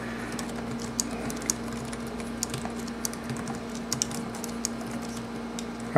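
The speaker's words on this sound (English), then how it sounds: "what happens if I type stuff while I'm recording a video?" Typing on a computer keyboard at a desk, a steady stream of light close-up key clicks over a low electrical hum, with no one speaking.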